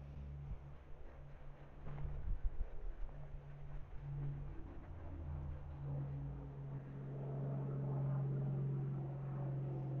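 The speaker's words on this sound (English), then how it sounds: "So we've got an aeroplane going overhead." Aeroplane passing overhead above a farm with vegetable plot and hedgerows in July, a faint distant drone that swells gradually and holds steady, with light outdoor background noise and no talk.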